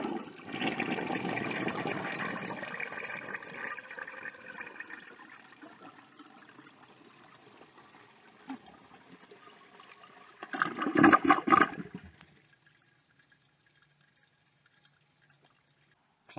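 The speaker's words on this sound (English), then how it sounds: "A normal flush." Flushing a 1957 Standard Cadet toilet fitted with a flapper valve brings a heavy rush of water into the bowl, then a loud gurgling drain surge before the sound drops to near silence with faint refill drips.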